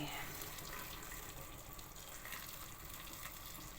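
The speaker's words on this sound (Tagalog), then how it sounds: "So, lagyan natin ng mainit na tubig." Hot water poured into a pot for cooking sweet potatoes, a steady faint hissing splash of flowing water, continuous and even throughout.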